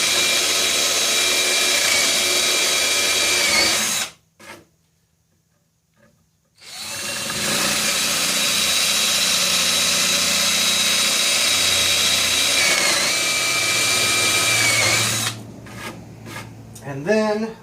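A mill bit driven through a workpiece cuts a slot with a harsh, steady grinding whine, stopping for about two seconds midway, then resuming before trailing into looser chatter and clatter.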